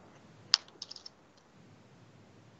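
A few scattered keystrokes on a computer keyboard while entering a calculation in MATLAB, faint clicks spaced out over quiet room tone with one sharper tap near the start.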